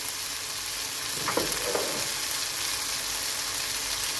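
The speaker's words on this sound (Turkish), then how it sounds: "Böyle kavuruyoruz arkadaşlar." Pine nuts and rice toasting in a pan for a Turkish Topkapı-style pilaf stuffing, giving a steady, moderately loud sizzle with a brief stirring scrape near the middle.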